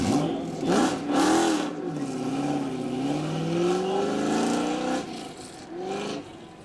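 A 5-litre American V8, mounted up front, burbles at a burnout and supercar show, its deep rumble rising and falling in pitch as the revs swell and ease, loud and close throughout with brief surges.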